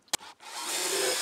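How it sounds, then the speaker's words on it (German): A 3 mm pilot hole drilled with a hand drill, probably into wood: a brief knock, then a steady, close whirring drone that builds and holds to the end with no talk. "Und bohre jetzt jeweils hier ein 3 mm Loch vor."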